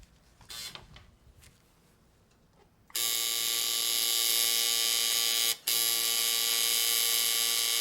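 Tattoo machine buzzing steadily while tattooing, working slowly with the machine run slightly backwards around a curve; a loud continuous electric hum starts partway in after quieter handling sounds and breaks off for an instant near the end.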